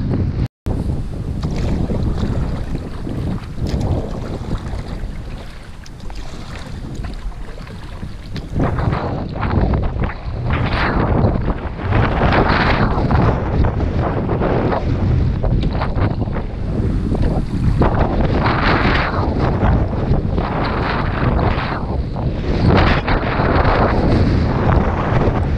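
Strong wind roars and buffets the microphone continuously on a river, with water splashing and lapping against a kayak nearby; no voices.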